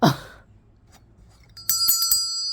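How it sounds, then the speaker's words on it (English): A small handheld school bell, the kind kept on a desk, rings with a bright metallic tone, a few quick strikes close by that sustain in a shimmering ring after a short bump of handling noise. "Oh, where's my school bell?"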